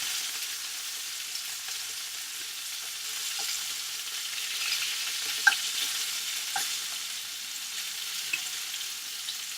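General Tao chicken frying in very hot oil, a steady soft sizzle with scattered sharp pops and crackles of splattering, fairly quiet and close, with no voices.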